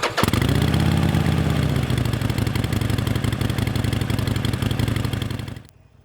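Harley-Davidson Forty-Eight with a stock-piped 1200cc Evolution V-twin, idling loud and close with a deep, steady lumpy throb that runs unbroken for several seconds, then cuts off near the end.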